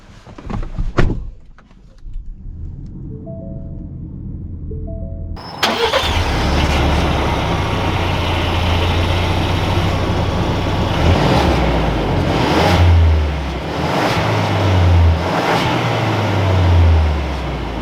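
A 2021 Ford Ranger Tremor pickup cranks and fires up after a door thunk and quiet chimes, then its engine settles into a steady idle and rises and falls as the truck pulls away, heard from inside the cab.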